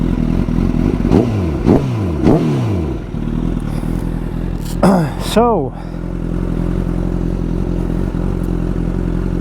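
A motorcycle ridden on the road, its engine revving and shifting through rising and falling sweeps, loud and close, with wind rumble and a brief spoken word.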